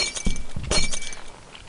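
Glass shatters in the video game Happy Wheels, a sharp crash followed by tinkling shards over under two seconds, loud and close.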